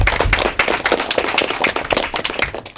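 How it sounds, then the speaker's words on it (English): Audience members at an elementary school academic quiz competition clap in loud, sharp, uneven bursts that continue steadily for a few seconds. "I'd like to hear a big round of applause for yourself."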